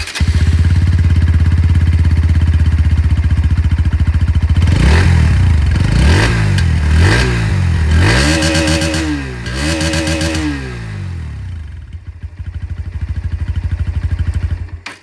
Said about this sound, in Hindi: यहाँ पर आप लोगों को अंडर व्हील एग्जॉस्ट मिलेगा पहले की तरह, तो इसकी जो आवाज़ है दोस्तों वो भी मैं आप लोगों को यहाँ पर अभी सुना दूँ